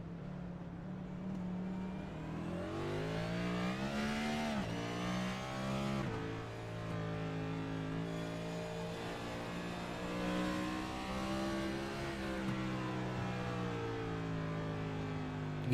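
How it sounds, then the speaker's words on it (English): A race car in a sim racing game at the Circuit of the Americas, with an engine that revs up and down repeatedly as the throttle is worked through downshifts on an uphill stretch, rising and falling pitch sweeps, loud and continuous with no talk. "You can hear Keene really having to work the throttle to keep the car doing what he needs it to do."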